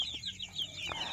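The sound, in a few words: free-range village chickens clucking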